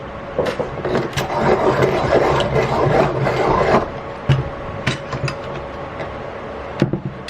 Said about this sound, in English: So I'll sharpen this now before I forget.